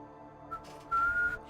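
Short whistling by a person: a brief tentative note followed by a longer steady high tone, close and clear with a faint background hum.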